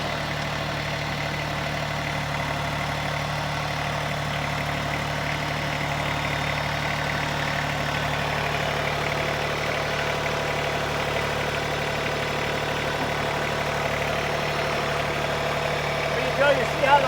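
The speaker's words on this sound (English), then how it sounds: "start the tractor up" A tractor fitted with a clamp-on snow blade idling steadily, a continuous even engine drone that stays unchanged throughout with no clear start-up heard.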